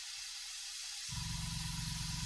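Harder and Steenbeck Infinity airbrush sprays steadily to clean out its paint cup, a continuous close hiss of air that starts after a brief quiet moment and holds evenly to the end.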